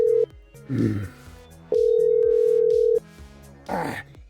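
A steady electronic ringback tone sounds in long pulses, a short one then a longer one, with soft background music between.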